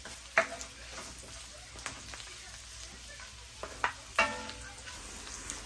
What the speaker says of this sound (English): now I got the bacon and the onions caramelized